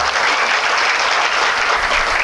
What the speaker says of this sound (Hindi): आप जोर से एक बार दिल से ताली बजाओ